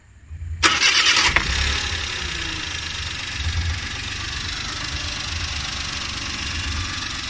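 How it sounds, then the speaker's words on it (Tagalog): A Suzuki Every Wagon DA64W engine cranks briefly, catches with a loud roar, then settles into a steady, rhythmic idle close by. "So paandarin na natin yung ating makina."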